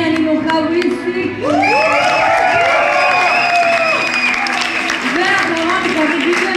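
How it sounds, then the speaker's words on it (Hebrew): A crowd bursts into loud, sustained applause and cheering for Naomi, with whoops and children shouting over steady clapping for several seconds after a brief lull. "קבלו מחיאות כפיים סוערות את נעמי"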